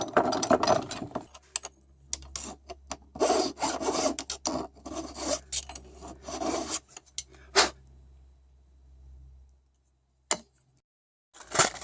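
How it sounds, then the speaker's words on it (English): Harsh grinding drill bursts biting into metal, several starts and stops of varying length, close and fairly loud, with quiet gaps between. "Now we're going to drill our other holes."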